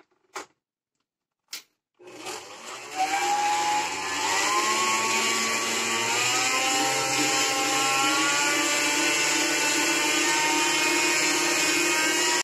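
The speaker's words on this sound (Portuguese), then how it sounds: "Eu vou ligar a batedeira e vou colocando," Electric stand mixer beating lemon cake batter as eggs are added one at a time; after a couple of short clicks it starts and whirs loudly and steadily, its pitch shifting slightly as the batter thickens.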